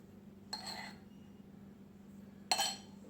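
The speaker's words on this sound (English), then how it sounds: "Next thing is 1 tablespoon of sugar in every glass." Sugar is spooned into cocktail glasses for a lime, honey and vodka drink, giving two brief clinks of a spoon against glass about two seconds apart over a low steady hum.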